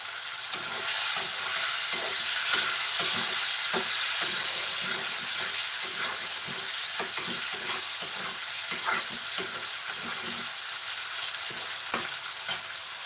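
Chopped onion frying in a pan, a steady close sizzle and hiss throughout, broken by frequent clicks and scrapes of stirring against the pan.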